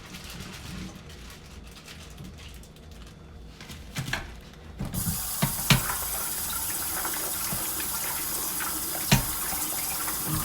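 Tap water runs into a sink as baby carrots are rinsed. It starts with quieter handling and gushes steadily and loudly from about halfway, with occasional clunks and splashes.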